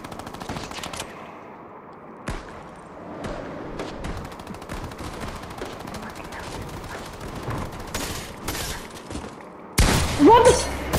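Rapid bursts of video game gunfire during an attempted trick shot, with sharp single shots and quick volleys spread across the stretch, getting louder and denser near the end.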